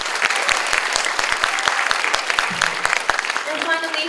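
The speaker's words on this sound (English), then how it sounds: "Everyone, please give a round of applause to Natsuki Mogi." Audience at a Japanese parliamentary debating tournament claps for a debate speaker, a steady burst of many hands lasting several seconds, with a voice speaking over the end.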